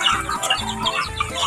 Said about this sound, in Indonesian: ini kandang ayamnya, banyak ayamnya teman-teman tuh.